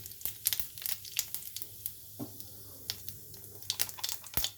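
Whole cumin seeds crackling as they hit hot mustard oil in a pan for a mushroom curry, a close, moderate crackle of scattered sharp pops and hiss spread unevenly across the clip, with no talking.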